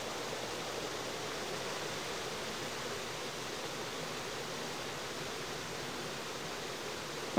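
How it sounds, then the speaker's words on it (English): Water rushes steadily through an Icelandic landscape in a VR game, a loud, unbroken broadband roar like a waterfall or fast stream, heard alone throughout. "There's a lot of water."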